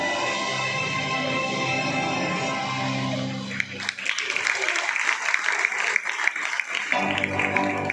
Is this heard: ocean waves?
no